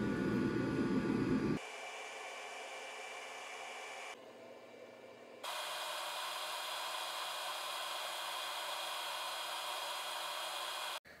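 A Petietec low-noise hands-free pet dryer blows a steady, broadband rush of air, shifting level a few times as the airflow setting changes, with a brief louder stretch at the start and no talking.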